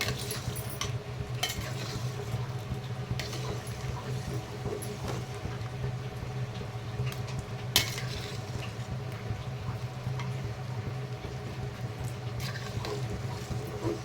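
A spoon stirs and scrapes steadily through a thick mixture with cardamom in a pot, with occasional sharper clinks against the sides over a soft, constant sizzle.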